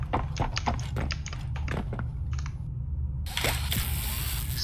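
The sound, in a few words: monster footsteps in video game Poppy Playtime Chapter 3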